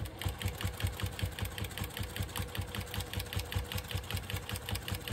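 A sewing machine stitches binding onto a quilt with a fast, steady mechanical rhythm of needle strokes, close and even, with no talking.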